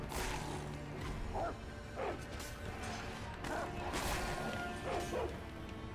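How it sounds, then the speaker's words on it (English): Dogs bark and snarl as they attack in the video game Sekiro, with several sharp, loud barks spaced across the moment amid swishes and impact sounds from combat. "I hear dogs."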